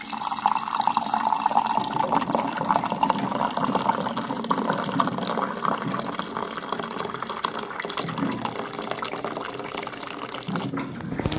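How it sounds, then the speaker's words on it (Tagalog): Hot water is poured into a pot of mung bean stew with alugbati. A steady, continuous trickle and splash of liquid runs for about eleven seconds with no talking. "Dagdagan ko lang siyang tubig, mainit guys."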